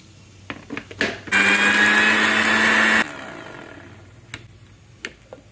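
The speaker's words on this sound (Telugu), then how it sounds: "మిక్సీ పెట్టుకున్నామండి." A mixie jar grinding cumin, ginger, garlic and green chillies roars loud and steady for under two seconds, framed by light clicks and handling taps.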